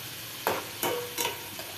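Three short bursts of sizzling as spices are stirred in hot oil for tempering, crackling briefly each time.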